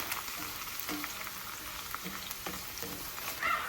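Fries crackle and sizzle steadily in hot oil in a cast-iron pan, a close, even frying hiss with small pops and a few scraping touches as they are turned.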